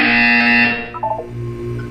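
A loud, flat electronic buzzer tone from the video game Portal 2 sounds for under a second, then cuts off, leaving a brief low hum.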